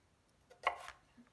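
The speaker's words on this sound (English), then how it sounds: "So I just chop in half and then in half again, and then I'll keep chopping in halves until I get to the desired shape." A knife chops sweet potato into cubes on a cutting board, one short cluster of crisp cuts near the middle, fairly close and moderately loud, with no voices.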